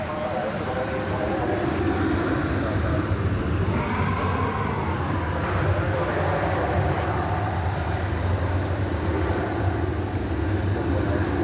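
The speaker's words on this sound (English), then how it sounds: "A United, or a UPS, I should say. Flight coming in from Little Rock." A UPS Airbus A300 landing at DFW Airport, a continuous broad jet roar heard from outside at a distance, steady in level with faint wind.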